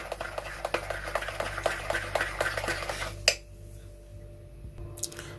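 Homemade dark knuckle and elbow cream with a thick, honey-like oil is stirred in a container: a few seconds of soft, wet, rhythmic scraping and squishing, close and fairly quiet, then it stops, leaving near silence.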